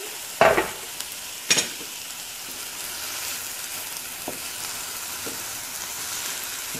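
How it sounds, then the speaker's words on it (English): Carrot puree is stirred into a turkey ragu in a pan: two sharp knocks of the spoon near the start, then a soft steady bubbling and occasional faint scrapes, close but quiet. "So I'm just going to stir that in"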